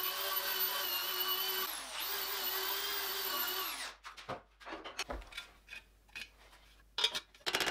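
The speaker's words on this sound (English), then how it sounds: "use a brass brush to deposit the brass on the surface" A rotary brass brush spins against a breastplate of Mandalorian armor, a steady high whine for about four seconds, followed by scattered scraping and clattering handling noises.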